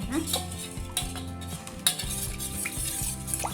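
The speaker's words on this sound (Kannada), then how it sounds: "ಸೊ ಚೆನ್ನಾಗಿ ಮಿಕ್ಸ್ ಮಾಡ್ಕೊಳ್ಳೋಣ." A spoon stirs and scrapes through smashed potato filling in a bowl, making repeated rhythmic clinking and squelching strokes, close and fairly quiet, with no talking.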